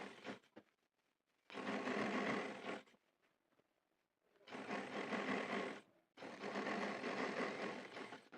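A sewing machine stitches trouser fabric in three sustained runs, each lasting a second or more, separated by quiet pauses with small handling clicks; loud and close, with no talk.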